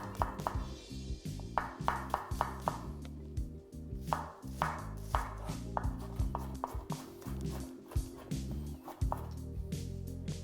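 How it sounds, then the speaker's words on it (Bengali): A knife chops two onions into thick pieces with a run of sharp, close, rhythmic cutting knocks and a few brief pauses over about ten seconds. "খুব বেশি কিন্তু আপনাদের এটাকে পাতলা করে কাটতে হবে না, জাস্ট একটু মোটা মোটা করে এইভাবে কেটে নিন।"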